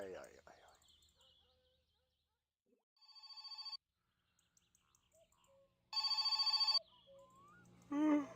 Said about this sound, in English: No, I don't want to pick up your stupid phone call.